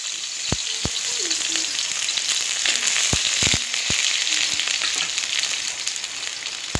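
Onion dropped into hot oil sizzles loudly and steadily, with sharp pops and crackles breaking through the constant frying hiss.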